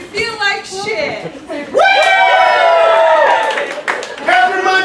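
Audience at a live comedy show cheering and shouting loudly together, a sustained crowd roar of voices lasting a couple of seconds, with scattered yells before and after.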